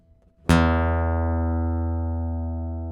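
A single plucked guitar low E sixth string reference note rings out after a brief quiet start, sustaining loud and clear with rich harmonics and a slow, steady decay, with no talking.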